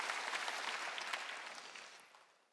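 A church congregation claps together, a dense burst of applause that starts full and gradually fades away over a couple of seconds.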